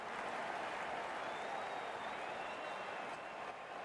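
Crowd applause and cheering at an amateur cricket league match, a steady dense wash of clapping that carries on without a break through the whole stretch, heard from a distance with no nearby voices.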